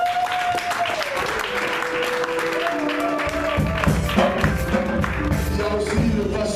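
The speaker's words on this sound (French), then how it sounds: "On peut acclamer pour Jésus" A church congregation applauds loudly and steadily throughout, the clapping swelling in the second half over a tonal musical sound.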